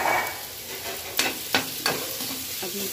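Besan and masala frying in oil in a pan with chopped tomato, ginger and green chilli, giving a steady close sizzle broken by a few sharp stirring scrapes of the spoon, with no talking.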